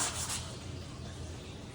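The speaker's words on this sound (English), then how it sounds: "So I'm just gonna sand all of those imperfections out." Quiet, steady scraping of sandpaper rubbing across Venetian plaster, a soft continuous hiss close by with no voices.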